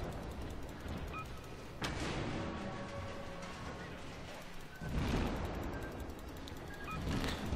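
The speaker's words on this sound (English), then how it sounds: "It looks like I am firing all my guns" Warship main guns firing in World of Warships, a dense rumbling barrage with heavy booming salvos at about 2 and 5 seconds over a continuous roar of battle noise.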